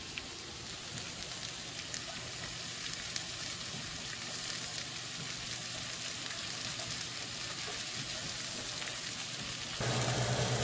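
Meat browning in a pan for a French date-night dinner, giving a steady, even sizzle and frying crackle that runs unbroken at low level, with no voices.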